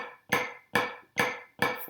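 Eighth-note flams struck on a drum practice pad, four sharp, close taps evenly spaced, each with a quick grace-note edge, heard alone without talk.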